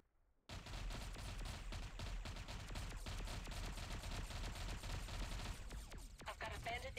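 Missile and gunfire in the space combat game Discovery Freelancer during a raid: a dense, rapid stream of sharp synthetic shots fires continuously after a brief quiet start, loud and sustained for several seconds.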